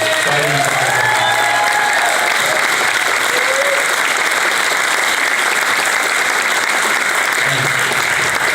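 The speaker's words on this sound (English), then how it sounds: "Please give a huge applause for the people that have been able to put their bodies on the line." Loud, dense audience applause at an awards presentation, a continuous roar of clapping that fills the whole stretch with a faint voice or two underneath.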